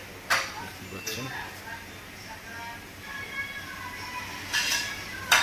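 Plates and cutlery clink now and then on a table in a busy restaurant dining room, a few separate short clatters near the start and end over a low background murmur.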